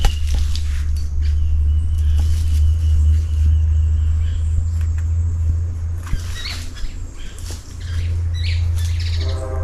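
Birds chirp in short scattered calls outdoors on a farm, heard over a strong, steady low rumble, likely wind or an engine, with occasional light pattering.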